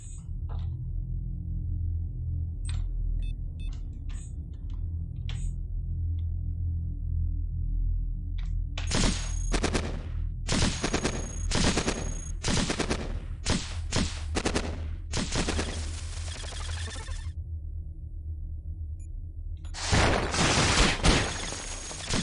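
Rocket launchers firing in the robot roguelike Cogmind, a dense series of sharp bursts in rapid clusters from about nine seconds on, then a final heavy volley, over a steady low game hum.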